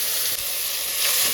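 Onion, garlic and tomato fry in oil in a pan, giving a loud continuous close sizzle and hiss that holds steady throughout.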